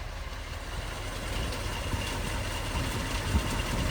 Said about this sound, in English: Nice quiet running engine,